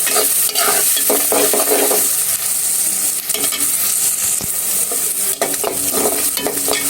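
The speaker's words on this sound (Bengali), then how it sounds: "এই যে দেখুন পেঁয়াজটা ভাজা ভাজা হয়ে গেছে, বেশি ভাজবো না।" Onions fry in a hot pan for beef liver bhuna, giving a steady, loud sizzle broken by the scrape and clatter of stirring.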